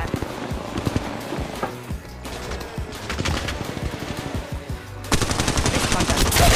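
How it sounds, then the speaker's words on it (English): Rapid gunfire bursts in the battle royale shooter Apex Legends Mobile, dense sharp cracks in quick automatic strings, loud and close, with a heavier volley at the end. "Getting shot at."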